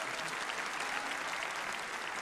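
An arena audience at the Finlandia Trophy 2024 pairs free skating applauds figure skaters in a continuous, even wash of distant clapping.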